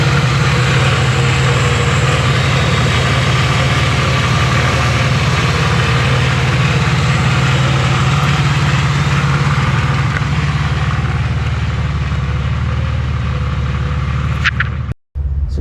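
A 1987 Mercedes-Benz 300E W124 engine idles steadily at close range, a continuous low rumble that holds evenly for a long stretch before cutting off abruptly with a brief dropout near the end.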